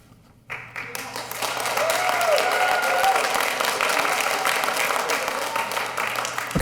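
Applause breaks out suddenly from an audience at a city council meeting after a brief quiet moment, then holds as a dense, steady wash of clapping from the room.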